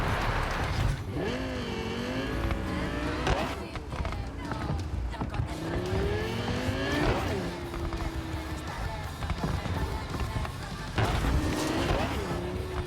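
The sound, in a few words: car driving and tire squeal in video game Cyberpunk 2077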